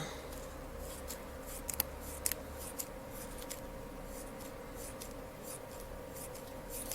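Scissors cut strips of foamiran, giving soft, quiet snips and rubbing sounds in an irregular sequence over a faint background hum.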